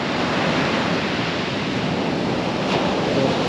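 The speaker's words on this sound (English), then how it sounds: "Figure I'd still stop in and check out the ocean. Looking a little rough today, a little choppy." Rough, choppy ocean surf on an Outer Banks beach near Avalon Pier on a cold, windy day, a steady close roar of breaking waves mixed with wind buffeting the microphone, with no one talking.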